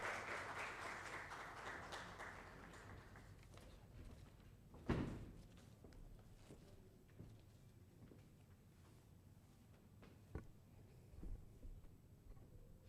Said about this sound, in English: Let's have a big round of applause for IILM.